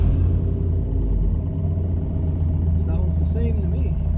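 Turbocharged pickup truck engine idling nearby with a deep, steady low rumble, loud and continuous, while people talk over it.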